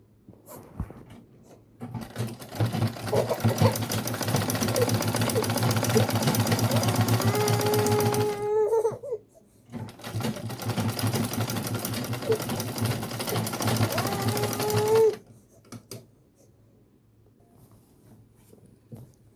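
A sewing machine top-stitches ankara cargo pants in two long, steady runs of rapid, loud, close stitching, with a short pause between them and quiet at the end.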